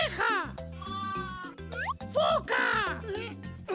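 A sheep bleats in quick, wavering calls over bouncy children's music, the bleats bright and close, repeated several times across the short stretch.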